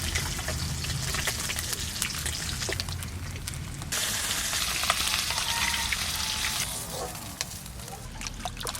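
Koi fish fries lightly in hot oil with a continuous crackling sizzle that swells and eases a little over time. The sound is close and has no talk over it.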